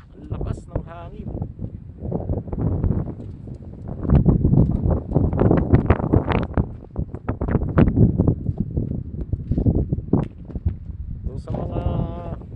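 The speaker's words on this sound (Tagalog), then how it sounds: "kasalukuyang nagsa-sandstorm dito sa aking camp. Dito sa Khurais Desert, Saudi Arabia." Strong sandstorm wind gusts around a camp at an oil rig clinic in the Khurais Desert, Saudi Arabia, buffeting the microphone in rough bursts while someone talks throughout.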